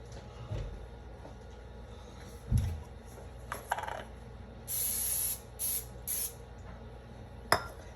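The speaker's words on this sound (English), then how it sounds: "You have the option now of spraying your hands with some nonstick spray to help if you want." Nonstick cooking spray spritzed onto hands, heard as three short hissing bursts in a row, fairly close, among faint kitchen knocks and handling sounds.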